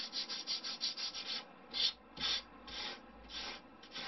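Sander rounding off the edge of a balsa wood wing, heard as a steady run of short rhythmic rubbing strokes, close and fairly quiet, with a few slightly stronger passes near the end and no talk.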